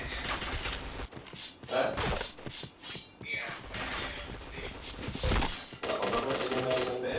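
Dense gunfire from a shooter video game: rapid bursts of shots, impacts and sharp metallic mechanism sounds alternate with brief gaps. Someone speaks briefly over the noise.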